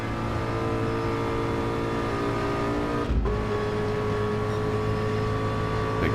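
A Ford race car engine in Gran Turismo 7 during an endurance race drones loudly and steadily at high revs, with a brief dip midway before resuming its constant roar, no talk.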